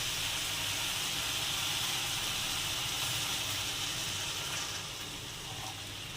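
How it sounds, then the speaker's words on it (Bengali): Water poured into a hot pan of egg, potato and capsicum curry gives a steady broad hiss that holds evenly, then softens a little near the end. "এবার জল দিয়ে দেবো।"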